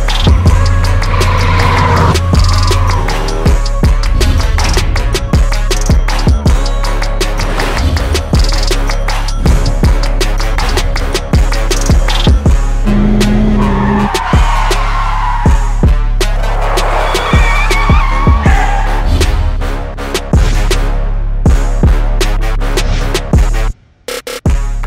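A Hyundai Elantra performs a driving stunt: loud engine and tire noise with sharp impacts and screeching bursts, set against a driving music track that cuts out abruptly near the end.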